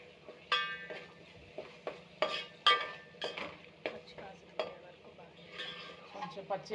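A spoon stirs ginger paste, coconut, coriander seeds, cinnamon, cloves and onion frying in a pan, with irregular scraping strokes and metallic clinks over a faint low sizzle, close and quiet.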